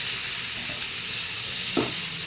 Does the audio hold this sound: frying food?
yes